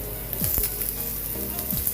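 Sliced peppers and corn sizzle steadily in a hot frying pan, a continuous close crackle with a few brief stirring scrapes.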